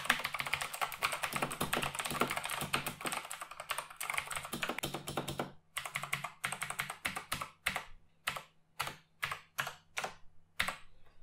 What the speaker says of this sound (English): Here's a sound test of the Razer green switches on the BlackWidow Chroma V2.